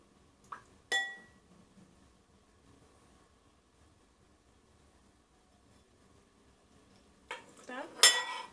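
Stirring a homemade makeup remover gel mixture in a glass container, with a couple of sharp utensil clinks at the start, a long quiet stretch, then a closing burst of scraping and clinking, close and fairly soft.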